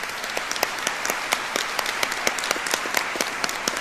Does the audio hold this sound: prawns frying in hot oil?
no